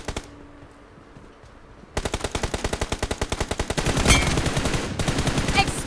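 Automatic gunfire rattles out in BGMI, the battle royale game, as a fast, steady, loud string of shots close by, after a quieter stretch of in-game ambience.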